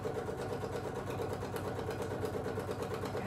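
A sewing machine stitches along the edge of a quilt, a steady close mechanical whir with a fast rhythmic patter running without a break.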